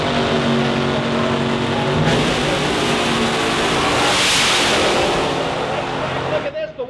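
A Pro Mod or fuel altered drag racing car launches down the strip at Northstar Dragway with a loud, thunderous engine roar that builds, peaks and fades as it pulls away. An announcer talks over it.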